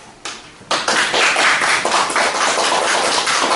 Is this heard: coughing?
no